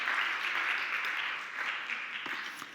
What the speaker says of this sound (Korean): 우리 박수로 우리 격려하도록 하겠습니다.